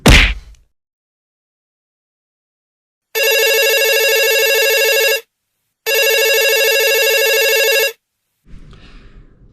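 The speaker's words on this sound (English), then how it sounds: "The telephone rang" A telephone rings in two long, loud electronic bursts of about two seconds each, separated by a short pause, with a brief clatter before them and faint noise afterward.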